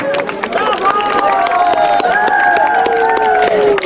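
An outdoor crowd claps and cheers continuously at a cross-country race award ceremony and raffle, with a busy patter of hands mixed with voices and children's cries.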